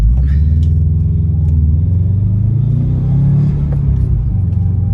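Turbocharged Subaru WRX engine fitted with a Grimmspeed cold air intake, revving steadily with a deep, continuous rumble and rising intake growl, loud and close with no talking.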